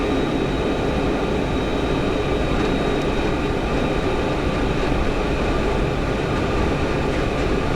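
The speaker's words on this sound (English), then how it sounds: "Set takeoff thrust. Takeoff thrust set." Boeing 727 jet engines in a flight simulator spooling up to takeoff thrust, a loud, continuous broadband roar with steady whining tones, alone with no voices.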